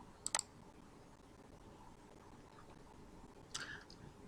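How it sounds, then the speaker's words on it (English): A computer mouse clicks twice on an icon, with a quick double click at the start and another soft click a few seconds later, faint against a quiet room hiss. "So you're going to click on this icon."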